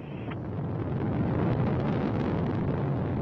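A Soyuz rocket's first- and second-stage engines fire during a crewed launch to the space station, producing a continuous, heavy broadband roar that stays steady and dense throughout, heard from a distance with wind buffeting.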